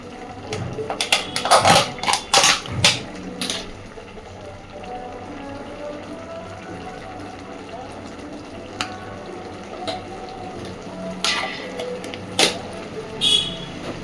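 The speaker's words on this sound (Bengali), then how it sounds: "দেখুন, তরকারিটা খুব সুন্দরভাবে ফুটছে।" A pot of cauliflower and potato curry simmers on the stove with faint, scattered bubbling and popping. A few sharper clatters come early and again near the end over a quiet background.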